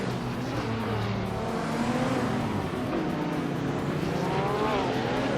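Race cars in a racing video game roar together in a steady, loud engine drone, with rising and falling revs as cars jostle for position, continuous and close with no pause.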